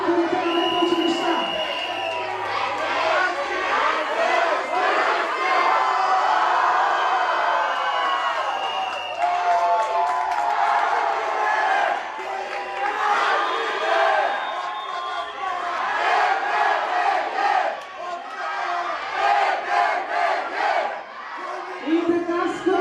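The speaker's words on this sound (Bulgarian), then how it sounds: "Още веднъж бурни аплодисменти за директорите на двете училища." An audience at a school celebration cheers, whoops and shouts loudly and continuously for the directors of two schools, a dense roaring crowd sound that never lets up.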